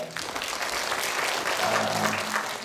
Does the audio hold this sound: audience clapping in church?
yes